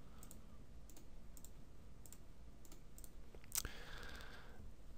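Several quiet, sharp computer mouse clicks spaced irregularly over a low steady hum, with one brighter click or tap near the end, all faint and close with no talking.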